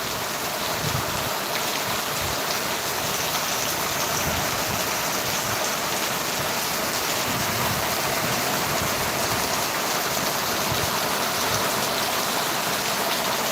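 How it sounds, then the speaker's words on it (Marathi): Heavy, steady rain pouring down continuously at Dharankheda, a dense hiss with pattering on surfaces, unbroken throughout and with no voices. "आणि असा सुंदर पाऊस आज या ठिकाणी श्री क्षेत्र धारणखेडा नगरीमध्ये अगदी शेतकरी राजाच्या मनाजोगा पाऊस पडत आहे"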